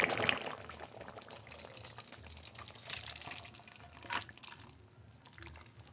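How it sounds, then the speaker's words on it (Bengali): Cooked mutton curry (khasir mangsho kosha) is poured out of the cooking pot, giving a wet, thick slosh with soft drips and scraping for several seconds, close and alone with no talk. "মাংস ঢেলে নেব।"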